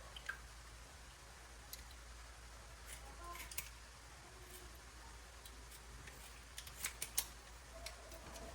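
Scissors snip an octopus for cooking in a quiet kitchen, faint scattered clicks and snips over a low steady hum, with a quick cluster of louder cuts near the end.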